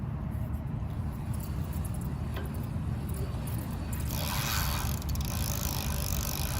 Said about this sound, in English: here's the drivetrain without any electric assist